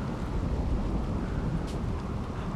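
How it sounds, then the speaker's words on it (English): Thunderstorm in the video game RimWorld: a low, rumbling roar of thunder and rain, steady and dense throughout with no talk. "this thunderstorm does not want to end"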